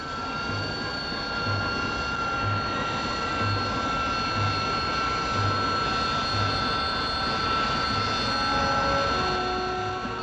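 A Kestrel jump jet from 1965 landing vertically on downward-pointed jet thrust: a loud, steady roaring whine with high tonal jet tones, continuous throughout and close by.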